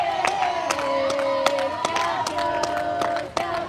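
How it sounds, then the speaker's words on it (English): A crowd at a college water polo game, UCSB against Biola, cheers and shouts in sustained voiced calls punctuated by sharp claps, loud and close throughout. "And we even have the USC girls cheering for us, which I love to see."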